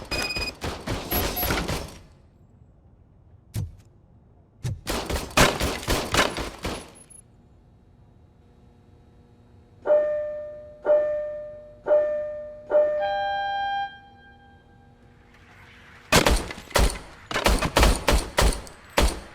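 A RoboCop service weapon firing in the video game RoboCop Rogue City: loud rapid bursts of automatic pistol fire, a lone shot, a few electronic beeps and tones, then another fast burst.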